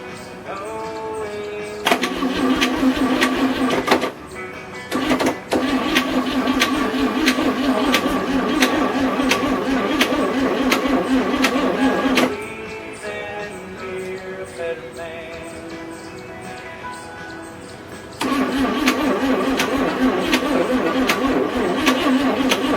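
A 1962 Chevy K20 truck engine with low compression cranks repeatedly, with a loud rhythmic starter churn in long bursts separated by short pauses, but it never clearly catches and runs.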